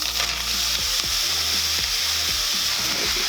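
Cherries cooking in a hot saucepan on medium heat give off a steady, close, loud sizzle, with a few soft stirring knocks and no talking.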